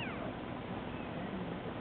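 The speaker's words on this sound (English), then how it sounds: "And that little meow you hear, that's her." A young female kitten gives a faint little meow amid a steady broadband hiss, with no talk.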